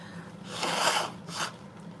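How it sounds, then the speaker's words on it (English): A short nose blow: two breathy honking bursts, the first longer and louder, the second brief, close up and without talk. "Let me blow my nose."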